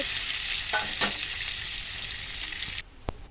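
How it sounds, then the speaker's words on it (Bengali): Boiled eggs coated in salt and turmeric fry in hot oil with a steady, loud sizzle that runs unbroken, a couple of stirring scrapes mixed in, before the frying cuts off abruptly near the end. "এখন নুন হলুদ মেখে ভেজে নেব প্রথমে লাল লাল করে ভেজে দেবো"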